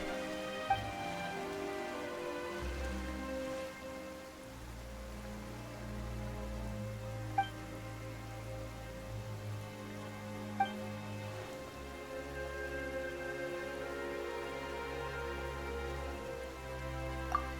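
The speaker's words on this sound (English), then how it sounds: "Why is it raining all of a sudden?" Sudden rain falls in the Fontaine region of Genshin Impact, a steady wash of drops on surfaces lasting throughout, layered under low sustained game music with occasional soft chime accents.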